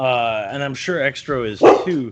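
Small dogs yip and whimper in short high bursts close by, mixed with someone talking over them during a podcast recording.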